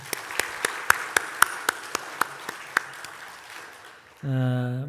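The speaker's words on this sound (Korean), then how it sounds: "우리 박수 한번 치도록" A church congregation at a Sunday worship service claps in a quick, steady rhythm, about a dozen sharp claps close by. A brief voiced tone follows at the end.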